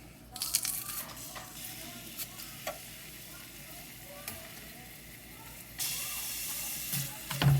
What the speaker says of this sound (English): I have a little bit of oil on the bottom of this, been heating up. I'm going to add a few cloves of garlic